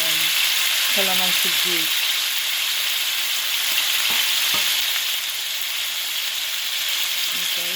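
Marinated chicken pieces fry in a pan for Filipino chicken afritada, a steady loud sizzle running the whole time while a voice speaks briefly over it.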